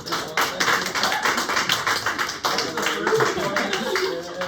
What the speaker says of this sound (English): Can we all just have a big applause?